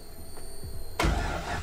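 LS-swapped car that recently caught fire after burnouts, its engine cranking briefly then catching and roaring to life up close, loud and rough after a quiet moment.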